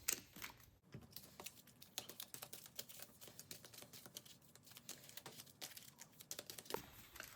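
A deck of game cards for a cooperative dice-and-card board game is shuffled, giving a quick, dense run of crisp flicking clicks that comes in bursts and pauses, close and alone without talk.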